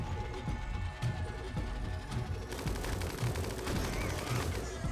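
Dense, continuous gunfire from shotguns, pistols and a minigun in a RimWorld battle, a steady rattling barrage of overlapping shots with no pauses, moderately loud throughout.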